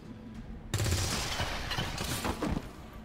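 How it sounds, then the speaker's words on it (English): A burst of heavy weapon fire from XCOM 2 breaks in abruptly after a quiet moment, loud and sustained with crackling impacts for over two seconds. "I fire my weapon at him."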